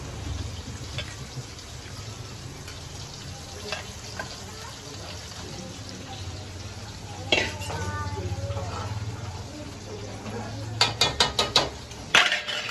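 Bombay duck fish (bombil) frying in a pan: a steady low sizzle runs throughout, with scattered clinks and stirring scrapes, and a burst of sharp metallic utensil knocks near the end.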